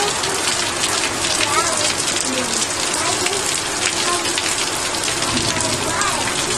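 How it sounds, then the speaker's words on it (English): Heavy rain pours down hard during a thunderstorm in southeast Queensland, a dense, steady hiss of drops hitting surfaces throughout. "Still still bucketing down."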